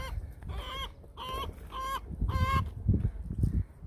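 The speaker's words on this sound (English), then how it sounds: "this chicken has something to say." A chicken clucks in a run of four distinct bursts close by, with low rumbling farmyard noise underneath and no talking.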